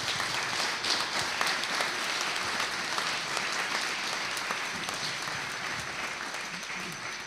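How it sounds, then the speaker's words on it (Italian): Audience applause welcoming an award recipient at a centenary commemoration event, a dense, sustained wash of many hands clapping that fills the room and slowly eases off toward the end. "prego tutti voi di accoglierlo con un caloroso applauso di benvenuto"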